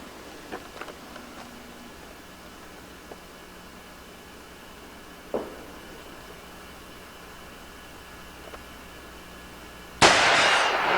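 Gunshots ring out at a shooting show, a few sharp isolated cracks spaced seconds apart over a quiet background, ending in a louder, sustained burst of noise.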